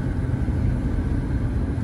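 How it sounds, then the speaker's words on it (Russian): A bus rolls past nearby with a steady, broad low rumble of engine and road noise that holds evenly throughout. "Автобус."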